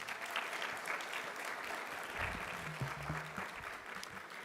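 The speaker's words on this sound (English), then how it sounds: "We can clap for our Director of Didactic Education in her absence" Quiet, steady clapping from an audience at a physician assistant program white coat ceremony runs alone through the whole stretch, faint and diffuse with a soft low tone briefly underneath.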